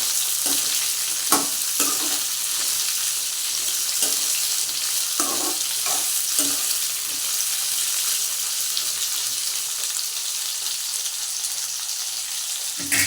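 Stuffed okra frying in oil in a pan makes a steady, loud hiss of sizzling heard up close, with a few soft stirring scrapes and knocks scattered through it and no talking.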